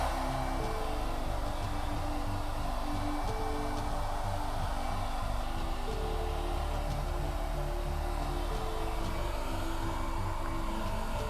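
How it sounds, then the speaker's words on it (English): A hair dryer blows steadily and close up while someone dries freshly cut bangs, a continuous loud broadband whoosh with a low rumbling motor hum that holds for the whole stretch without pause. "blow dry it. So I'm sorry for the noise."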